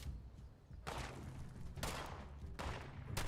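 Enemy gunfire in the Fallout 76 video game, heard as three loud, sharp broadband bursts spaced about a second apart, each ringing out briefly over a low background rumble.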